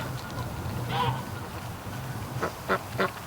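Crossbred, Rouen and Pekin ducks together with Canada geese on water near a creek, giving scattered quacks and honks at a moderate distance over steady outdoor background noise, with a few brief calls closer together toward the end.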